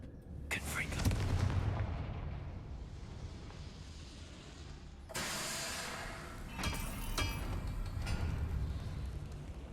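Confringo blasting spell explosions in Hogwarts Legacy, two heavy booming bursts with a broad rumbling tail, the second arriving midway, over continuous game ambience with a voice talking.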